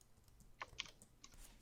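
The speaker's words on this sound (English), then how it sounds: "Oh, you are typing?" Keys clatter on a computer keyboard in a quiet room, a brief uneven burst of a few soft clicks with two sharper taps, faint and close.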